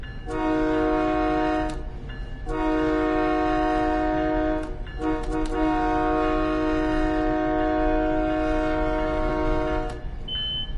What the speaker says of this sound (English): we're about ready to start blasting these horns because we're now approaching the crossing